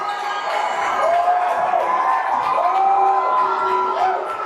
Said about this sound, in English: Stagner gets a nice applause from the whole crowd, but especially the student section